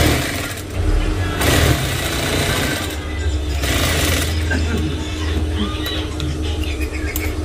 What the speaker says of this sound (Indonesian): Selanjutnya ibu jahit bagian tali yang ada di kepala